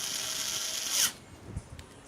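A power tool whirs for about a second as it drives a power supply screw into a mounting plate during a PC build, then stops, leaving faint handling clicks.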